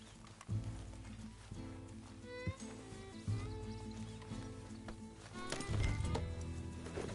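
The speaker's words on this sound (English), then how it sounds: "Just get back on the horse, Arthur." Clip-clopping horse hooves in Red Dead Redemption 2 over a layered, music-like game soundtrack, with a brief whinny-like tone partway through; steady and fairly close.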